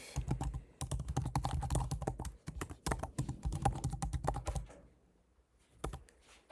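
Someone types an email message on a computer keyboard, a rapid close-up clatter of keystrokes that runs for several seconds. It pauses briefly and ends with a few scattered taps.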